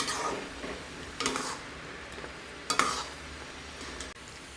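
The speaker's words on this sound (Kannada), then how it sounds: "ಕೊತ್ತಂಬರಿ ಸೊಪ್ಪು ಹಾಕ್ಕೊಂಡು ಒಂದು ರೌಂಡ್ ಮಿಕ್ಸ್ ಮಾಡ್ಕೊಬೇಕು" Fresh coriander leaves being mixed into upma in a pan: soft sizzling underneath a few quiet scrapes and clinks of a spoon against the metal, close by, with no talking.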